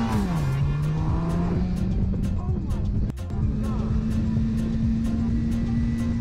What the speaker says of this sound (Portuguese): Esse piloto quase foi atingido por um carro em uma interseção.